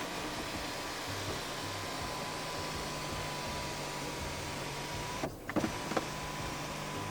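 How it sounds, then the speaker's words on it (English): Electric sunroof motor on an Omoda C9 2.0 turbo AWD whirring steadily as the glass panel slides open to the vent position, heard close inside the cabin, ending with a few soft clicks and thumps. "You can open up the sunroof as a vent."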